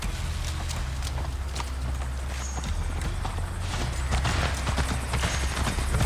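Horse hooves clip-clop steadily as riders mount up in the Viking-era action game Assassin's Creed Valhalla, with a continuous rhythmic patter of hoofbeats over a low rumbling bed, close and fairly loud, with no speech.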